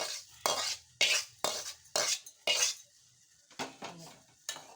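A spoon stirs roasted rice-flour vermicelli into lukewarm milk in a metal pot, making repeated close scraping sweeps in a steady rhythm that fade to softer strokes near the end.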